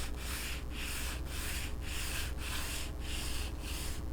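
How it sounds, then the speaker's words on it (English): Hand sanding of a Fesley kit guitar's finish during refinishing with a light touch, giving a soft, rhythmic back-and-forth rasping of about eight strokes, close but quiet, with no talk. "I'm going to try to have a very light touch with sanding"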